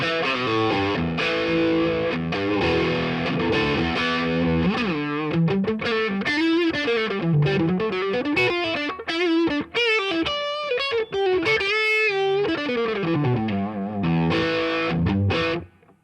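Overdriven electric guitar, middle pickup, running through a Gurus 1959 Double Decker overdrive pedal, playing continuous distorted riffs and chords with a full, sustained crunch that cuts off abruptly at the end.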